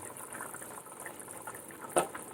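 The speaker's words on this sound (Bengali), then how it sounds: "ঝোলটা ফুটে গেছে।" Potato curry gravy for a Bengali banana-blossom kofta curry bubbles in a pot, a soft, steady simmer heard close but faint, with one brief pop near the end.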